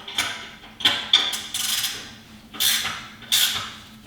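Box wrench cranking down 13 mm exhaust pipe bolts on a Harley-Davidson Fat Bob 114, giving several short metallic clicks and scrapes in separate bursts, close and moderately loud with no talking.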